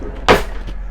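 A cutlery drawer in the galley of a Beneteau Oceanis 50 yacht slides and knocks shut in a single short close thump with a faint rattle, followed by a softer second bump.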